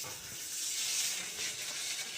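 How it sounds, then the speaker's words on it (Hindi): A soft, steady sizzle of hot oil hisses continuously at low volume as a tadka of spices fries in a pan. "तड़का लग चुका बाटे हमें।"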